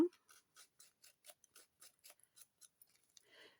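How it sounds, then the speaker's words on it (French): Scissors snip and rasp repeatedly along a piece of card for a handmade greeting card, a steady series of close, quiet crisp cuts in a regular rhythm with no talking. "Donc, on va faire avec les ciseaux."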